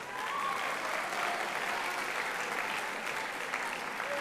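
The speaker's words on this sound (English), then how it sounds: "Give them one more round of applause." Steady applause from a crowd at a school spring assembly honoring students, dense clapping sustained throughout at an even level.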